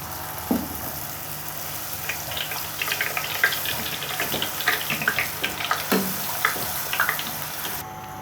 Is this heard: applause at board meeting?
no